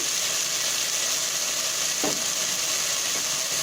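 Chicken sautéing in a pan for chicken curry, a steady, even sizzle that runs throughout with a faint stir or scrape partway through.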